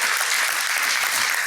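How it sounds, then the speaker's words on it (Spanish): A church congregation applauds together in a steady, dense wash of clapping that fills the room, close and even, with no voices standing out. "por favor dense un aplauso a ustedes mismos"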